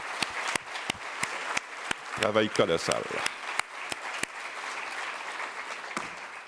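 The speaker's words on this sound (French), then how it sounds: "j'aimerais ça qu'on donne une bonne main d'applaudissement à mon équipe" Applause rises at a housing colloquium, a fairly quiet scattering of claps with sharp individual hand strikes standing out, while someone speaks briefly in French over the start.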